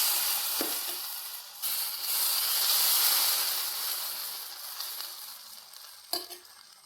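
Semolina and grated coconut are stirred as they fry in a pan, giving a steady, hissing sizzle that swells and fades with each turn, with a couple of light utensil knocks near the start and end.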